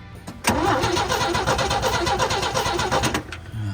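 An old International Harvester Scout's starter cranks its engine in one loud, close, continuous stretch with a fast rhythmic churn. The cranking cuts off near the end without the engine catching.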